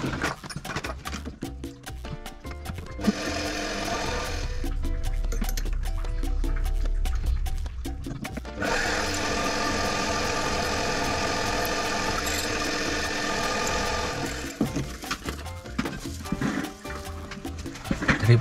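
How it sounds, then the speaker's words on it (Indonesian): A metal lathe turns and cuts aluminium, giving a steady motor drone with bursts of scraping, chattering cutting noise that starts and stops in sections, close and fairly loud with no talk. "Kita lanjutkan ke mesin bubut."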